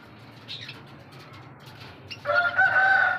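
Backyard chickens cluck and call while eating spinach, a soft murmur of fowl noises building into a louder, sustained rooster-like call near the end, close by with no talk.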